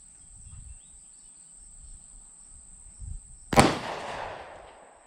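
A single sharp shot from a Llama 1911 clone pistol cracks loudly and close after a quiet stretch of outdoor insect chirping, then rings off in a short decaying echo.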